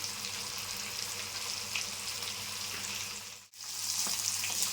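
Fish frying in oil in a non-stick pan, a steady close sizzle that fills the clip and breaks off briefly near the end before resuming.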